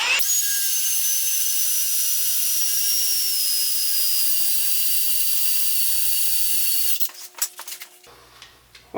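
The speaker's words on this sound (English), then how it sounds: "Gonna have to work our way up in drills." A power drill bores a small start hole through steel on a 1950 Chevy Coupe, a steady loud whine for several seconds before breaking through and winding down into a few rattling stops.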